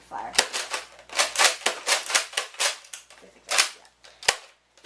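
A toy gun fires in rapid bursts of sharp, close snapping shots, over a dozen in quick uneven succession, loud against a quiet background.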